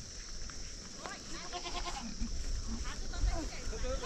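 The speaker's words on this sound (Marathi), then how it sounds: "ये नीचे किसका घर है? ये नीचे घर नहीं है. ये बकरी का बना है का? हाँ, बकरी का है." Goats bleat in a shed beneath a house, several close, wavering calls rising over one another while people talk nearby.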